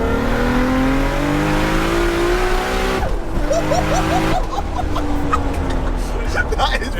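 A 1000 bhp Toyota Supra pulls hard in third gear, its engine note climbing steadily and loud, with a brief chirp near the middle and excited voices underneath.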